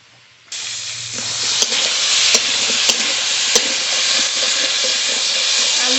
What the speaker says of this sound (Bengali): আলু পটল প্রায় ভাজা হয়ে গেছে